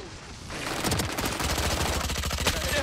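Gunfire in the tactical shooter Valorant: dense rapid bursts of shots, close and loud, following a short quieter lead-in.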